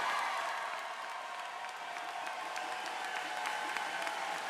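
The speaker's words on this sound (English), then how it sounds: "one last round of applause for all graduates" A large crowd gives sustained applause for graduates at a 2024 commencement ceremony, a steady, distant wash of clapping that stays fairly faint and even throughout.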